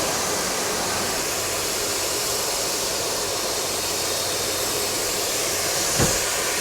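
A steam train passes near Hunting Butts railway tunnel in Cheltenham, a loud, steady hiss of steam and rolling rumble held throughout, with one brief sharp burst near the end and no talk.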